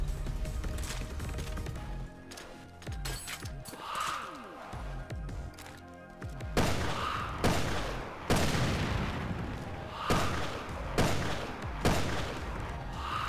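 Rocket launcher blasts in Resident Evil Revelations 2, Raid Mode, fired against an enemy: a run of loud, booming explosive shots in a rough rhythm over dense game noise, with someone speaking in the background.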